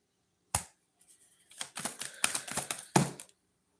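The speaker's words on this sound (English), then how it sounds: "You see me shuffling the cards." Quick papery slaps and riffles of a tarot deck being shuffled, a sharp snap first, then a dense run of flicking bursts, close and fairly quiet.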